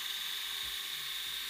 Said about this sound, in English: once we're down on the bone, we then can drill with our cannulated drill bit